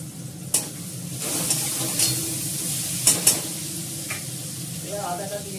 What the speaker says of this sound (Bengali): এটা ভাজাটা করবো